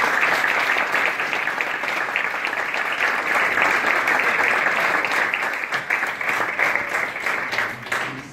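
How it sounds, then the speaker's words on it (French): Loud, dense audience applause after a talk, continuous clapping from a full room that holds steady for several seconds before thinning slightly at the end. "Je pense qu'on peut l'applaudir à nouveau."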